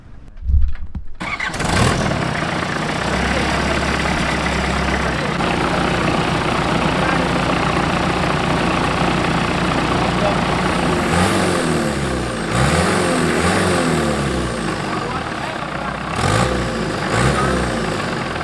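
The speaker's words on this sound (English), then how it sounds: "We have a working engine." A boat engine, newly swapped in Thailand, cranks and catches after a brief silence, then runs at a steady, loud, rough idle for the rest of the time, with short revs near the end.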